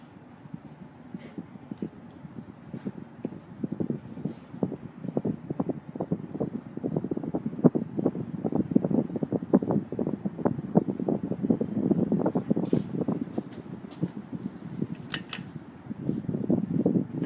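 A 1989 Hunter Mayfair 52-inch ceiling fan runs with a soft, steady rhythmic thumping as the blades turn, a low even pulse close by that continues throughout, with a few faint clicks and no talk.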